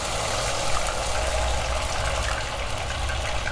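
Ghewar batter pouring into very hot ghee over a high flame, giving a steady, loud hiss and frothy bubbling that runs unbroken throughout without any voices.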